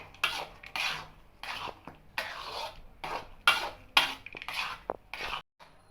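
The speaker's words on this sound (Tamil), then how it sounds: "இப்போ அதே நம்ம மிக்ஸ் பண்ணி நல்லா திக்காக வர வரைக்கும் நல்லா கிண்டிக்கிட்டே இருக்கணும்" A thick sago laddu mixture with ghee is stirred in a pan, producing repeated close scraping strokes at a steady rhythm, each lasting about half a second, with brief pauses and no voices.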